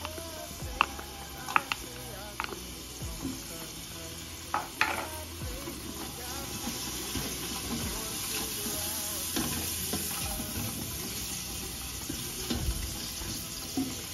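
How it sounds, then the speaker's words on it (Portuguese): Two garlic cloves frying in oil in a home kitchen pan, a steady close sizzle running throughout with occasional clinks of a utensil against the pan and brief faint voice in the background. "Vou deixar esse alho dar uma fritadinha"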